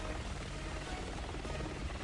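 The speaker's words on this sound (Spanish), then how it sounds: "Ese helicóptero está a punto de abrir fuego." A helicopter from the video game Resident Evil 6 hovers nearby, giving a dense, steady rotor drone and whine that fills the whole short stretch at a constant level, with no speech.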